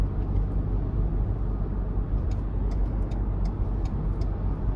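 A 2023 Ford Ranger XLT's 2.3-liter turbocharged four-cylinder EcoBoost engine drones steadily while pulling the truck uphill, a constant low rumble heard from inside the cabin with faint ticking above it.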